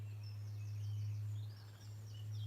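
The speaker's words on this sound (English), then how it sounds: "Just nice to hear the birds singing" Birds singing at dawn beside a fishing lake, thin chirps and warbling phrases drifting from a distance over a constant low hum.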